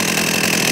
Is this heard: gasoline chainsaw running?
yes